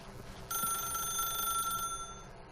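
An old-style telephone bell rings in The Stanley Parable video game, one steady ring of about a second and a half, alone and fairly close, set against a quiet room hum.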